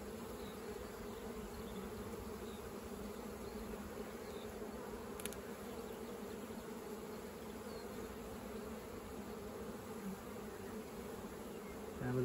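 A honey bee colony hums continuously during a hive inspection, a steady, soft buzzing drone with no voices over it.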